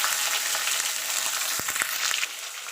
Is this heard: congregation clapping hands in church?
no